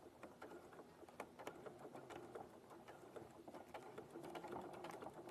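A sewing machine stitches through vinyl bag material, running steadily with a fast, even mechanical patter of needle strokes, close by and quiet.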